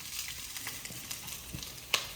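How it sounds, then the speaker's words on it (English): Green onions sautéing in hot oil, a steady close sizzle and crackle with light stirring scrapes and one sharp clink near the end. "put the green onions in there, and I'm gonna saute that for about a minute or so"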